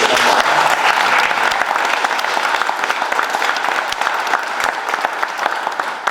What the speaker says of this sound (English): I wouldn't mind a round of applause for Sue